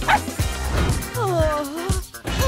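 A dog yips and whimpers in short high-pitched bursts, close by, with a few soft barks mixed in.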